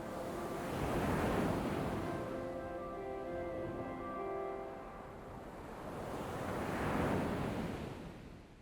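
Ocean waves break on a big-wave surf beach, two broad crashes swelling and fading over several seconds, with a steady background wash and light wind buffeting the microphone.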